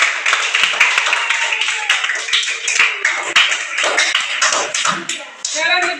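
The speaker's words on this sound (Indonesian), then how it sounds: "Oke, tepuk tangan." A class of students claps hands together in a classroom, a dense run of overlapping claps lasting several seconds with some voices mixed in.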